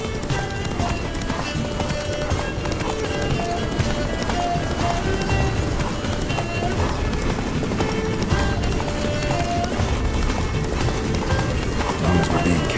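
Roach, a horse in The Witcher 3, gallops in a steady, close rhythm of hoofbeats that runs throughout, with some faint voices and game ambience beneath.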